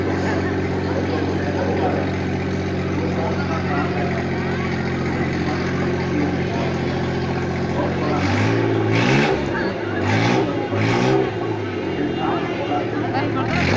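Motorcycles and cars rev and drone around the wooden walls of a well-of-death stunt show, giving a loud, sustained engine roar with rising and falling revs. Crowd noise and voices run underneath.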